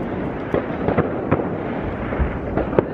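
Fireworks launched in Katowice in 2020, a dense run of crackling pops and muffled bursts coming close together at a steady loudness, with no voices.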